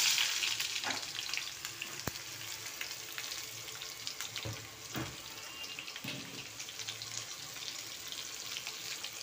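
Cumin and mustard seeds, then onion, sizzle in hot oil in a home kitchen, a steady close crackling hiss with a few clinks of utensils and no talking.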